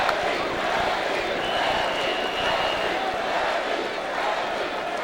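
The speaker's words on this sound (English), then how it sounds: "you hear the crowd chanting" The Proviso East crowd chants at the 1995 IHSA boys individual wrestling state finals, a dense roar from a packed arena filling the background beneath a commentator's speech.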